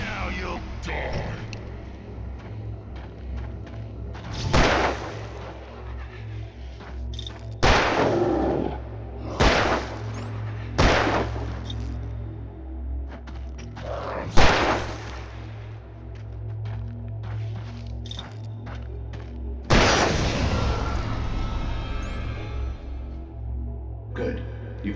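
Gunshots in the survival horror game Alan Wake Remastered: several sharp, loud bursts spaced a few seconds apart over a droning game soundscape, with the last shot ringing longer.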